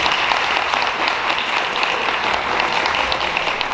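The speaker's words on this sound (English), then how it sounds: "So let's give everybody a round of applause." A room full of people gives a sustained round of applause at the end of a group discussion, dense and even clapping that holds steady from start to finish.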